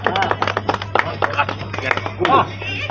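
A crowd claps at an Indian Secular Front political rally, a quick run of sharp, scattered hand claps close by, mixed with voices talking over them.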